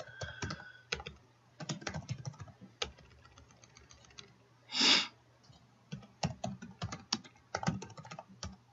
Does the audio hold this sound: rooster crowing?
no